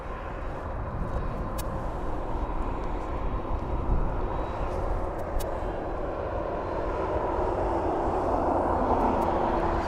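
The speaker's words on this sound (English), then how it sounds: "as the next aircraft starts to come in" An aircraft coming in to land at East Midlands Airport in the evening produces a broad, steady roar that slowly grows louder and fuller as it approaches.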